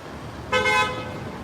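A single car horn toot sounds on a street in Williamsburg, Brooklyn, a short honk of about a third of a second rising over steady background traffic noise.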